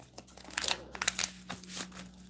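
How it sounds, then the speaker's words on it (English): Crisp, papery riffling and crinkling bursts, close by, like cards being shuffled in several quick rounds. "I'm gonna shuffle this deck"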